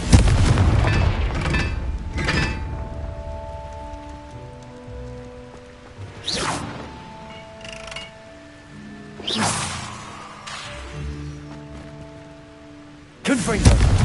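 Confringo blasting curse explosions in the video game Hogwarts Legacy, several sharp booming bursts spaced a few seconds apart over soft sustained musical tones.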